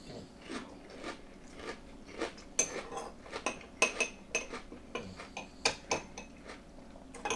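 Cinnamon Toast Crunch cereal being crunched and chewed, a steady run of sharp, close, loud crisp bites and crunches repeating every half second or so, with no talking.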